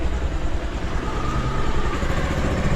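A motorcycle engine runs close by as a ride begins, a steady low rumbling idle with a dense chug that holds evenly throughout, with no voices.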